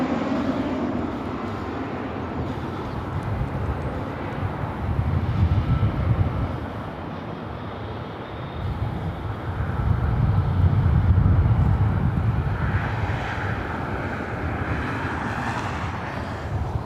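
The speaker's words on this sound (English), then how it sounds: "Delta A321 Neo heading over here" A Delta Airbus A321neo jet airliner flies over near LAX, a steady broad engine roar that swells and fades in waves for over fifteen seconds, with no talk.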